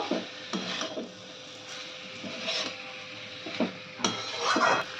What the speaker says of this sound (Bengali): মশলাটা এবারে আমি দিয়ে দিচ্ছি জল জল ঝরিয়ে রাখা কচুর লতি ভালো করে মিক্স করে দেবো